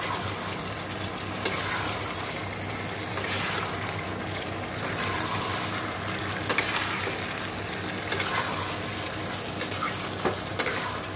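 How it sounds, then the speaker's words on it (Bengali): Mutton and potatoes sautéing in a pan for a red curry, a steady loud sizzle with occasional scraping stir clicks throughout, no talk. "মাংসটা দিয়ে আলুটা দিয়ে এবার কষাচ্ছি ভালো করে"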